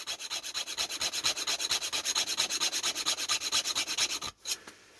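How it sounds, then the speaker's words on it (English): A metal file sharpens the blades of homemade wire strippers in about thirty quick, even rasping strokes close up, then stops abruptly with a couple of faint clicks. "you can just give them a quick sharpen with a file"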